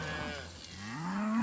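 A cow lets out a long, low moo that rises and swells, close by and continuous over outdoor background noise.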